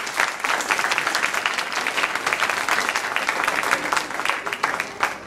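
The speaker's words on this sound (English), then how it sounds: "give this group of kids a round of applause for the work that they've done" At a Christmas band concert, a crowded audience claps loudly for a middle school band, a dense and lively burst of many hands that keeps going for several seconds with no speech over it.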